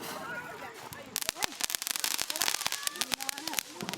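Firecrackers bursting at a Vishu celebration, a rapid string of sharp cracks and pops that starts after a quieter moment and keeps snapping irregularly, close and loud, with voices talking underneath.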